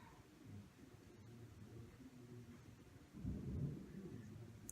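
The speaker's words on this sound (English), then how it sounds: "Here comes the thunder." Rolling thunder rumbles low and steady through a dark storm, swelling louder near the end, with faint rain beneath and no talk.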